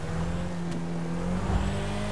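A rear-wheel-drive car in the GTA 5 video game revs steadily with a constant engine drone, plus a faint crack or two that may be backfire pops, no talking over it.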